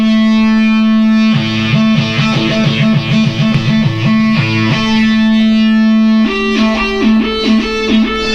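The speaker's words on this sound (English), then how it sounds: "So I got a distortion circuit up here." Loud, gritty Minimoog-style synthesizer through a distortion circuit, holding a low 32-foot drone while a buzzy melodic line steps up and down in a repeating pattern, briefly dipping before resuming.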